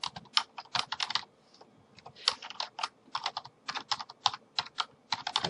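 Rapid typing on a computer keyboard, bursts of close, crisp key clicks separated by short pauses, with no voices.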